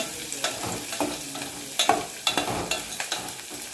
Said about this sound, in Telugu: క్యారెట్ ముక్కలు కూడా వేసుకొని కలుపుకోవాలి